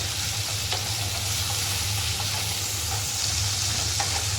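Onion and tomato with salt fry in a pan for a masala, a steady close sizzle that runs without a break, with a few faint stirring scrapes and no speech.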